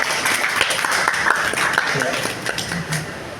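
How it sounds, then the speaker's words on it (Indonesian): An audience applauds at a book performance event in Jakarta, a bright, continuous wash of clapping with scattered sharper claps and a voice talking over it. "Ya, beri tepuk tangan sekali lagi untuk Bang Kit."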